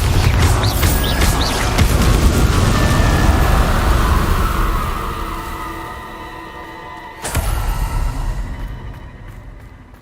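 A Bombarda explosion spell in the Hogwarts Legacy video game erupts in loud, dense, rumbling blasts over continuous game noise, easing off midway before a sharp new crash and burst near the end.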